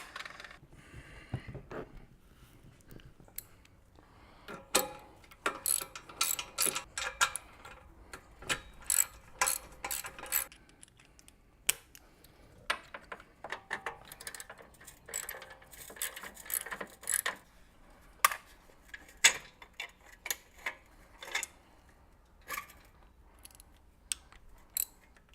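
A ratchet clicks in repeated bursts while bolts are loosened on a motorcycle with its rear saddlebag removed, the metallic ratcheting coming close and intermittent with pauses between runs.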